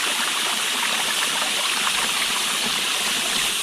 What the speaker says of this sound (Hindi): हाँ, यहाँ पानी आ रहा है।